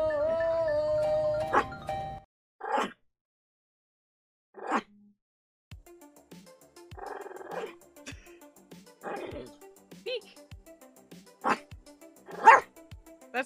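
Oliver the dog lets out sharp barks in spaced bursts with low growling between them, close to the microphone, while a person speaks at times.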